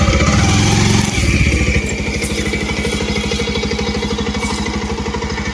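A motorcycle engine runs nearby with a loud, steady, rhythmic putter, a heavier rumble at the start settling into an even idle-like throb, with no talking.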